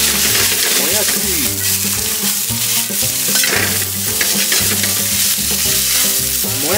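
Vegetables, including bean sprouts and green onion, stir-fried loudly in a hot pan in a cramped, street-stall-style kitchen, with continuous sizzling and repeated scraping and tossing close up.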